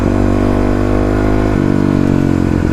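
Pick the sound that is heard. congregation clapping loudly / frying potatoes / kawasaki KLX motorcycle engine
kawasaki KLX motorcycle engine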